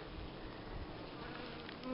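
Honey bees from a drone-laying worker colony buzz steadily in a dense, continuous hum, fairly faint and close, with no voices.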